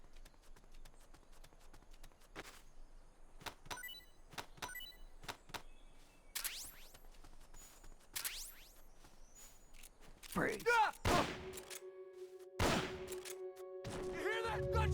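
Gunfire in the stealth video game Metal Gear Solid Peace Walker, a run of sharp cracks and thuds that grow louder and denser toward the end, with a player talking over the game sounds.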